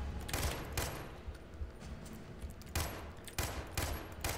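A Vector submachine gun fired in Far Cry 3, several short rapid bursts of automatic fire, loud and close, separated by brief pauses.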